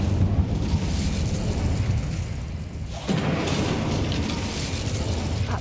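Incendio fire spell cast in Hogwarts Legacy, a whooshing burst of flame over a continuous roaring combat bed, a sharp onset midway then sustained loud rumble.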